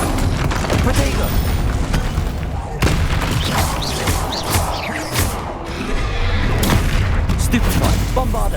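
Repeated Bombarda and Stupefy spell blasts from the Hogwarts Legacy video game boom and crackle through a dense, continuous battle din, with voices talking over the action.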